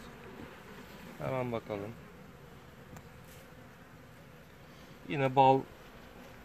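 Honey bees hum in a steady, low drone around an open hive during a winter-preparation inspection against varroa, continuous underneath two short bursts of nearby talk.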